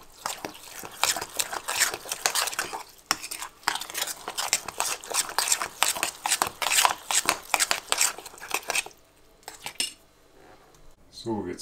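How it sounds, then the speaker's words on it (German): A knife chops Brussels sprouts, pumpkin and carrot for a raw vegetable bread in quick, rhythmic clacks on a board, with clinks of kitchenware, then a sparser, quieter stretch near the end. "wir zerkleinern jetzt Gemüse, das damit reingemischt wird ins Rohkostbrot. In unserem Fall Rosenkohl, Kürbis und Karotte."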